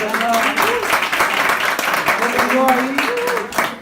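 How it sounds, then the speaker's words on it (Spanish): Church congregation applauding during a Sunday service, steady clapping with voices and tonal sounds mixed in, fairly loud throughout. "le damos un aplauso al Señor"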